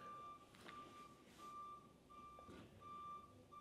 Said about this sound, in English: now some truck outside is making noise